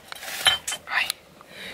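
Metal cans and plates clink and rattle in a car as trash is cleared out, a few quick clattering knocks and scrapes close by, with no talk over them.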